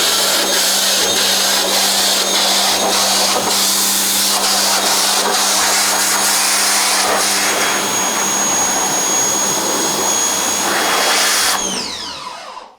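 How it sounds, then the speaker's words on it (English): A pressure washer blasts stencil emulsion off a screen-printing screen with a loud, steady roaring hiss that runs unbroken for about eleven seconds, then abruptly cuts off. "always use a pressure washer to blast your stencil off."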